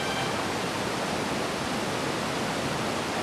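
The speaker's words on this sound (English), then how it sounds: "With the creek still running strong" A mountain creek in Colorado's Matterhorn Basin, below the Matterhorn and Wetterhorn peaks, runs strongly with a steady, dense rushing wash of water that stays constant and close, with no voices.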